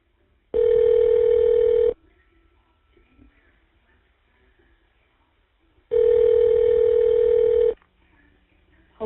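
Phone line tones from an Evercom inmate calling system at a correctional facility: two long, loud, steady electronic beeps, each about a second and a half, separated by faint line hiss as the call connects.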